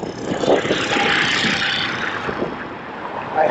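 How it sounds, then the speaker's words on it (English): Heavy wind buffets the microphone of a rider on a Begode EXN HS electric unicycle in a constant roaring rumble that swells and eases, with no clear voices. "so windy."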